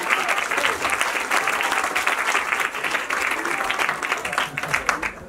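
An audience at the 2019 Mediathiks award ceremony applauds a teacher, a continuous wash of many hands clapping at moderate level, with faint voices mixed into the crowd.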